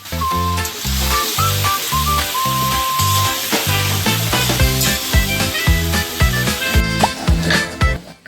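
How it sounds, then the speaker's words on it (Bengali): Chicken pieces with a little turmeric fry in hot oil, giving a continuous bright sizzle and hiss under loud, rhythmic background music. "এবার তেলের মধ্যে মাংসগুলি এক এক করে ছেড়ে দিন। অল্প হলুদ দিয়ে মাংসগুলিকে ভালো করে ভেজে নিন।"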